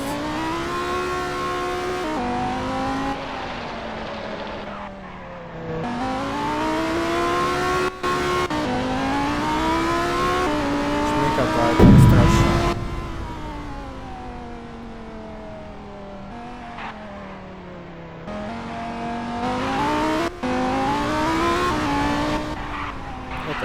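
Lamborghini Huracan in a car driving simulator game, its engine droning and rising and falling steadily through gear changes, with a brief louder burst of tire skidding near the middle, loud and continuous with no talk.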